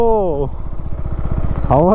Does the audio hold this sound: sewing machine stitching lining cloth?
no